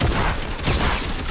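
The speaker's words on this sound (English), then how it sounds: "Yeah, that's a shotgun." A shotgun firing in a video game, heard as a dense burst of loud, close gunfire that overlaps into a rattling volley across the short clip.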